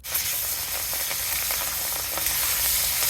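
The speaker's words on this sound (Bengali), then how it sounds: "মাছটা একে একে আমি ভেজে নামিয়ে নিচ্ছি।" Pieces of katla fish fry in oil, a constant close sizzle with crackling hiss throughout, steady and loud.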